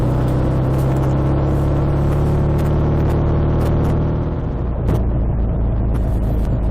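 The engine of a BSA A65 motorcycle runs steadily on a ride through the Peak District, a loud continuous rumble with a steady hum and no voices over it.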